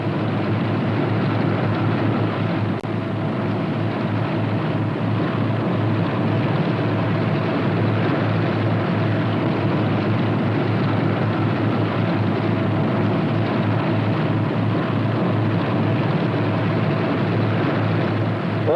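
Twin-engine Northrop P-61 airplane engines idling while taxiing, a steady, loud, continuous droning rumble with a constant low throb, alone and unchanging throughout.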